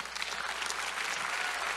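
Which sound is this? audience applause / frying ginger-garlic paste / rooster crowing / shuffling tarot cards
audience applause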